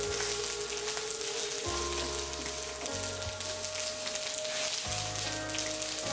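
Ingredients for a mint and coriander chutney frying in hot oil in a pan, a steady close sizzle and crackle that runs continuously without talk.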